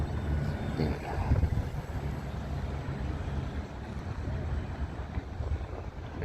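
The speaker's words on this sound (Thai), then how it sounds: "เรือก็ดัง" A boat engine drones steadily on open water, mixed with wind buffeting the microphone and a low, continuous rumble.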